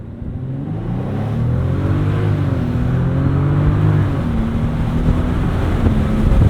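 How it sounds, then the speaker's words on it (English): Bentley Continental GTC with 512 lb-ft of torque launching hard from a brake hold, a loud steady engine roar with rising harmonics building through the run, heard from inside the cabin with wind buffeting. "foot on the brake, mashing the gas."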